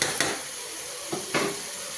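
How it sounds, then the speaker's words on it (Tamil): Marinated mutton pieces hit hot oil for a mutton biryani, giving a soft ongoing sizzle with a few scraping stirs and clatters of a pan, close up. "ஸோ மிக்ஸ் பண்ணி வச்சுருந்த மட்டன் பீசஸை ஆட் பண்ணிக்கோங்க"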